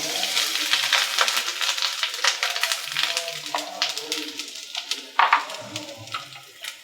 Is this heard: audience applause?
no